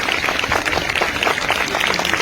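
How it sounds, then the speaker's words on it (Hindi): Loud, lively clapping from a crowd at a school Independence Day ceremony at Anglo Urdu High School, many hands beating in a dense, sustained rhythm. "इनके हाथों से जोरदार तालियां मिले"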